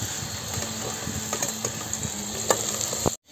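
Onion being sautéed in oil on a wood-fired village stove for spicy mutton rassa, heard as a steady low sizzle with scattered stirring scrapes before a sudden cutoff.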